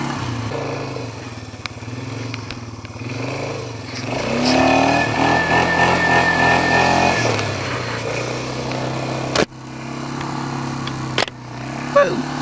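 A motorcycle engine revs and holds a rising, sustained drone while the rider pulls wheelies on a road, loud and close, with a couple of sharp clicks and knocks near the end.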